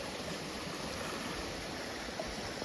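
Broad, steady rush of flowing river water, moderately loud and unbroken throughout, with no voices.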